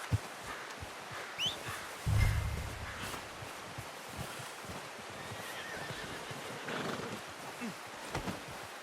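A horse in Red Dead Redemption 2 gives a loud whinny partway through, with soft hoof clops and outdoor ambience around it and sparse game sounds before and after.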